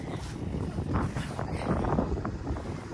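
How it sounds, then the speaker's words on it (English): Strong wind in snowy Montana near the Rocky Mountains buffets the microphone in a steady, rumbling roar that continues throughout without letting up. "It's always so windy."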